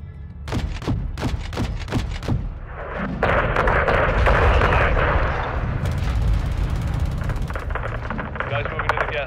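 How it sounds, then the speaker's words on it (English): Small arms gunfire in the Call of Duty: Modern Warfare 2 video game, a string of sharp loud shots in quick succession, followed by heavier rumbling fire and more scattered shots in a combat scene. "Taking small arms fire from the gas station"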